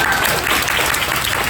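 Applause from a business event audience, a short burst of steady, dense clapping from many hands in a room.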